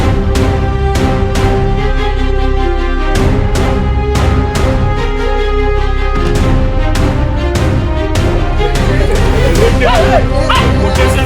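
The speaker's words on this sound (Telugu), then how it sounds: "కేసు మొత్తానికి మలుపు తిప్పే ఒకే ఒక కీలకమైన ఆధారం ఆ పాపతో పాటు వెళ్ళిన పెంపుడు కుక్క" A pet dog barks repeatedly at close range in a regular series of sharp woofs, with a few whimpering yips and some background voices and noise.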